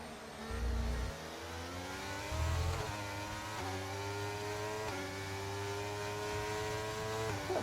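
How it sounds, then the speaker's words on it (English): A Formula 1 car in the F1 2023 racing game at the Brazil circuit drones steadily with a high engine note, upshifting in repeated rising sweeps, alongside the sound of the tyres working hard, with no talk over it. "You can just hear the tyres working away."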